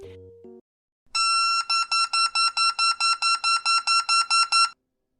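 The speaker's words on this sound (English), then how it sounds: "That was a beep baseball right after pulling its pin." A beep baseball sounds after its pin is pulled: a loud electronic beeping starts after a brief low sound, repeating rapidly in a steady rhythm of short high-pitched pulses, then stops.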